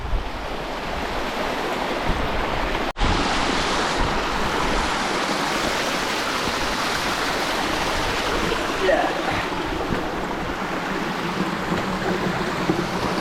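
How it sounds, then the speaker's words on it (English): Waterfalls and streams rush steadily beside a steep mountain path on a dark, rainy December night on Carrauntoohil in Ireland, a dense unbroken roar of water with wind buffeting the microphone and one brief dropout. "Some interesting waterfalls though."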